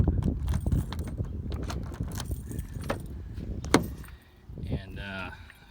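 The door of a tenth-generation Ford F150 XLT pickup truck is opened, with keys jangling, a sharp latch click partway through and a soft creaking swing afterward, fairly quiet and close.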